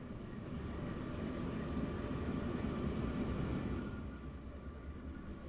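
A train in the Team Fortress 2 video game rolls down the tracks with a steady, broad rumble that holds evenly, then fades slightly near the end.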